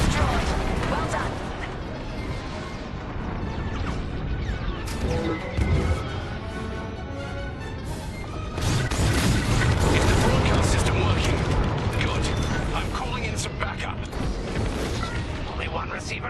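A dish blows apart in the space-combat game Star Wars: Squadrons, a loud, dense crashing explosion with rumbling debris that swells again midway, heard under pilot radio chatter.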